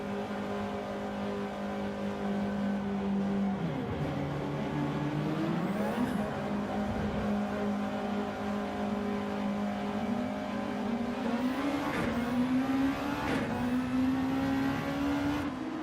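Race cars on track in a sim racing game at Yas Marina, engines droning steadily, then rising in pitch through sharp upshifts and revs, loud and close with no talk.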